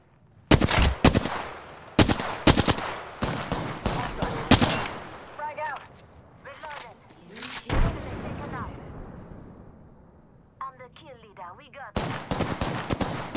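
Gunfire in the shooter game Apex Legends rings out in loud, sharp bursts of rapid shots separated by short gaps, with quieter clattering and effects between volleys.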